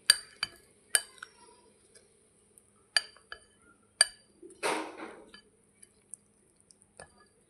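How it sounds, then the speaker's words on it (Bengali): Dry puffed rice (khoi) and sweet murki being mixed in a dish at home, giving sharp clinks and taps of a spoon against the bowl with a brief rustling, scraping burst in the middle, close and moderately quiet, with no talk. "খই আর মুড়কি দিয়েও বেশ ভালো করে মিশিয়ে নিচ্ছি।"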